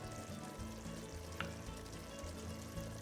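A small amount of tomato paste sizzles in a pot for okra stew with snail, a quiet, steady frying hiss with a faint crackle and no talking.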